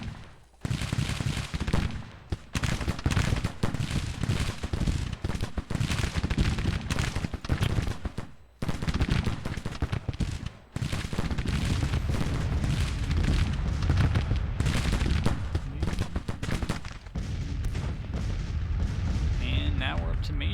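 A Civil War video game battle roars with dense, continuous gunfire and booming artillery, volleys overlapping almost without pause, with brief lulls and a voice faintly mixed in.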